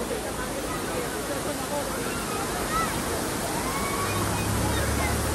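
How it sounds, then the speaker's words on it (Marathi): Amboli waterfall in Amboli Ghat thunders in a steady, unbroken roar of rushing water that fills the whole scene at an even loudness from start to finish. "हा आहे आंबोलीचा धबधबा"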